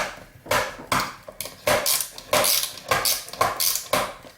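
A screwdriver backs screws out of a PS3 circuit board during scrapping for gold, producing close metallic clicks and scraping turns in short irregular bursts, with no voices.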